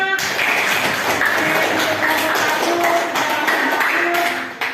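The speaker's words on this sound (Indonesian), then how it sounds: "Kita kasih aplaus dulu nak" Classroom applause breaks out after a student group presentation, a dense burst of clapping from many hands that runs steadily and fades toward the end.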